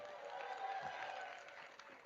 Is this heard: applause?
yes